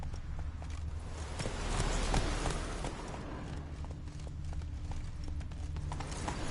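Steady horse hooves clip-clop in the Witcher 3 video game, a continuous close walking rhythm over a dense layer of ambient game sound.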